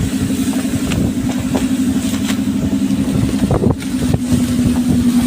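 Strong gusting wind and heavy sea waves buffet a boat in the West Philippine Sea, a steady loud roar of wind and engine-like rumble with water churning, continuous throughout with no voices.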